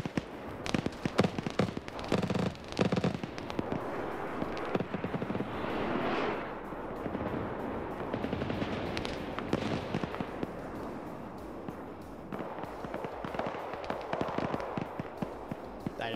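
Sustained rapid gunfire crackles through a military simulation firefight, dense bursts of automatic shots and pops rolling continuously, some close and loud, others more distant, with no voices.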